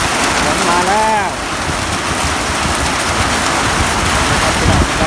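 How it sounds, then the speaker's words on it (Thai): Rain falls steadily over open rice fields as a dense, loud wash of noise, with a brief voice rising above it early on. "ฝนมาแล้ว"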